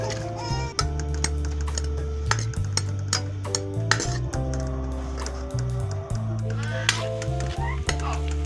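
Onions frying in hot oil in a pan with turmeric, a continuous sizzle under a steady low hum, punctuated by frequent sharp clicks of a utensil against the pan.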